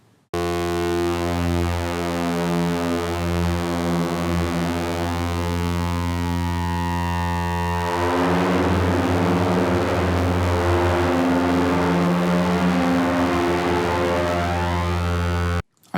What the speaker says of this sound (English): Here's just a single saw wave through my Syntratec Echo.